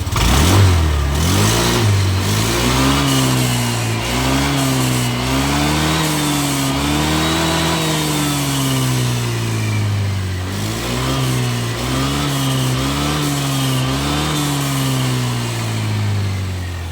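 A Honda Click v2 scooter engine, recently stumbling from a faulty TPS sensor, revs repeatedly during a test, rising and falling throttle sweeps over a steady idle, loud and close with no talk.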